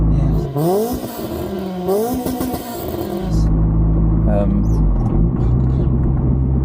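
A Honda CRX 1.6 i16 with a D16A9 engine and aftermarket exhaust revs up through rising gear pulls, then settles into a steady drone, heard from inside the car while a person talks over it.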